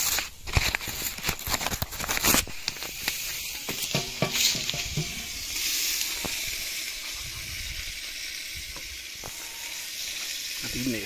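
Food frying and being stirred in a pan over a fire, a steady sizzling hiss with occasional scraping and clinking from stirring, fairly close, no talk.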